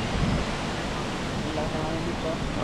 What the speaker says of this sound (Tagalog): Malakas ng hangin dito.